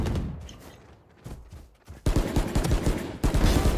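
Rapid gunfire in a Valorant deathmatch, first a few scattered shots, then dense bursts of automatic fire that grow loud and continuous toward the end, with no talking.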